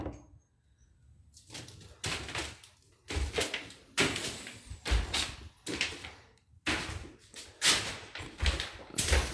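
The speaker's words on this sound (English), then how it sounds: "Look at this door to nowhere." Indoor door that leads nowhere, opened and closed repeatedly: a series of sharp thumps and rattling knocks at a steady rhythm, each with a short clatter, fairly close.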